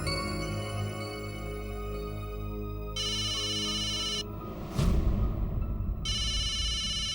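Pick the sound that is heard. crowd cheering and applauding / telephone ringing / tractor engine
telephone ringing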